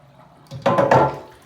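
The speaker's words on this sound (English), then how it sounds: "So I'm going to empty this hot water." Hot water poured out of a Lodge cast iron pan, a short splashing gush after a quiet moment, fairly close and loud, then trailing off.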